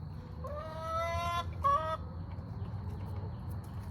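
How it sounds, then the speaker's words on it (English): Farm chickens in a coop during egg collecting let out two drawn-out harmonic calls close by, a longer one then a shorter one, over a steady low background rumble. "There's a chicken."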